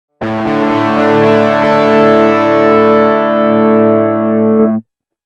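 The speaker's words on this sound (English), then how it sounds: "a turbo overdrive." Turbo overdrive guitar-synth tone from a Roland VG-99 Hex Fuzz setting: one strummed chord starts sharply, holds a thick, saturated sustain for over four seconds, then stops abruptly into silence.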